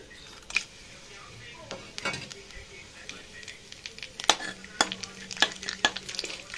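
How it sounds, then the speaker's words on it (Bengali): Bay leaf, cinnamon and a few cumin seeds tempering in hot oil after paneer frying, with soft sizzling broken by sharp stirring clinks and scrapes of a utensil against the pan, close and intermittent. "ফোড়নের মধ্যে দেব তেজপাতা, দারচিনি আর কটা জিরা"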